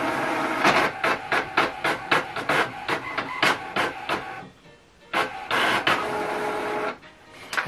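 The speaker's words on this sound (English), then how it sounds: "It's right now printing. Okay, so it's printing." An HP ENVY 4527 inkjet printer prints a status report with a rhythmic run of mechanical feed and carriage strokes, a brief pause, then another burst of rapid strokes, close and clear with no talking.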